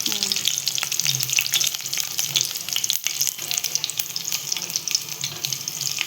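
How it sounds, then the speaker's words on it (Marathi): Crushed garlic sautéing in a pan for a Marathi monsoon birdyachi bhaji, a loud, continuous close sizzle with crackling bursts and no voices. "लसूण आधी थोडंसं आपण परतवून घेऊया"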